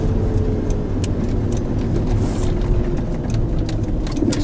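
A Buick Rendezvous engine revs with a manual-style gear shift while driving, a loud steady engine drone with road and cabin noise throughout and no clear speech.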